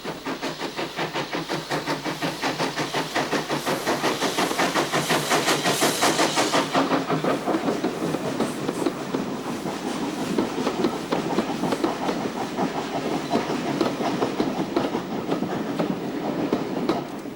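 A Southeastern and Chatham C-Class 0-6-0 steam locomotive, built 1902, hauls a rake of 1920s Pullman cars on the Bluebell Railway, with steady close clickety-clack of wheels over rail joints, a loud steam hiss early on and a continuous rumble throughout.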